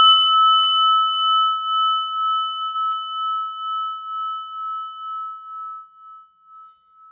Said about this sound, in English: just listen to the prayer bell.